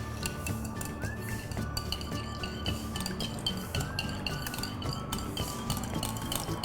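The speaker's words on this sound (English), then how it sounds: "Whisk this thoroughly." A whisk beats muffin batter for strawberry and orange zest muffins in a bowl, giving a steady, continuous run of quick metallic clinks and scraping taps against the sides.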